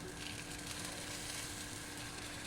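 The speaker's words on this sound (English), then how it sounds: "It's gonna look like this, like a taco, but it's not because it's actually frying inside." A French omelet frying in a pan, a steady close sizzle that holds evenly throughout with no pauses.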